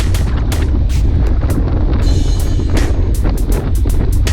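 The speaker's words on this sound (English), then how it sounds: "The east wind is just blowing today." Strong east wind buffeting the microphone during a group cycling ride in an echelon, a steady loud roar with gusty rumble throughout and repeated sharp bursts.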